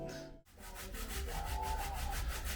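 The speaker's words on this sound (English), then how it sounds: "So Tracy's buffing the beam." An oak beam being buffed with wax and a scrubbing brush, a steady, close rubbing and scrubbing sound in rhythmic strokes after a brief pause near the start.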